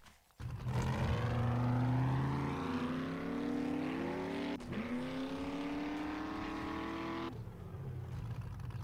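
Car engine in 7 Days to Die with the Darkness Falls mod, a loud continuous whine that rises and falls in pitch as the vehicle drives, dipping briefly midway before cutting off near the end.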